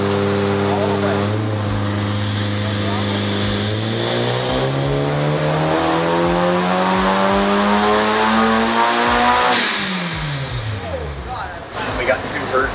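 A car strapped to a Dynapack hub dyno revs up loudly, engine pitch climbing steadily through a long pull before dropping off, with a voice speaking faintly beneath the engine noise.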